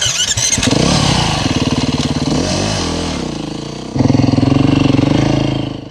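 A Beta Enduro 350 four-stroke motorcycle engine runs loud and close, its rough idle rising into a few throttle blips, dipping briefly, then surging again to a steady, revving note.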